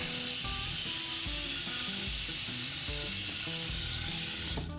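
A steady, loud rush of water streams from a faucet being repaired, with a constant hiss and no breaks, and small knocks and tones mixed into it.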